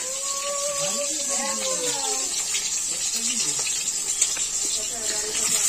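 Water pours and splashes as it is strained from cut eggplant and potatoes, a continuous gushing flow while voices talk over it.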